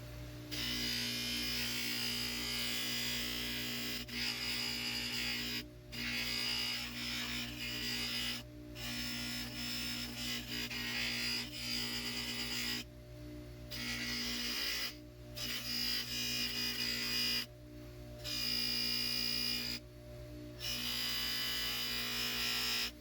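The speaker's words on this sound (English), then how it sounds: "I spent some time buffing all the old plated parts to give it that old shine that they used to have" A buffing wheel polishes old plated lathe parts, giving a steady motor whine with a higher, gritty rasp as each piece is pressed to the wheel, broken by several short pauses where the contact eases.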